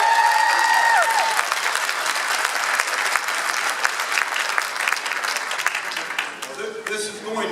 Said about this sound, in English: So let's hear it for Terry.